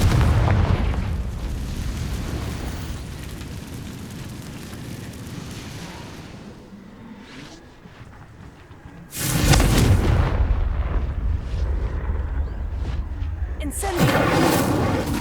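Confringo fire-blast spell cast in the Hogwarts Legacy video game: two loud, booming bursts hit about five seconds apart, each sustaining a roaring crackle, following a quieter rumbling stretch with game ambience.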